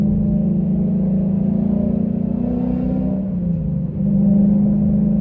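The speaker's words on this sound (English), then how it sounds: "So, just the third gear here." 2014 Mustang GT V8 pulling in third gear: a smooth, close engine drone rising steadily in pitch, briefly dipping near a shift point before climbing again, heard from inside the cabin without talk.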